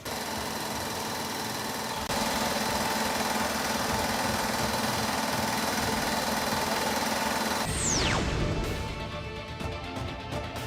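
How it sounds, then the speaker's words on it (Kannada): Large motor pump run by firefighters to clear floodwater from a flooded basement, a steady, loud mechanical drone that holds evenly before a falling tone sweeps down near the end and the level eases off. "ಬೆಳಗ್ಗೆ 6 ಗಂಟೆಯಿಂದ ಬೃಹತ್ ಮೋಟಾರ್ ಬಳಸಿ ನೀರು ತೆರವುಗೊಳಿಸುವ ಕಾರ್ಯ ನಡೆಸಲಾಗಿದೆ."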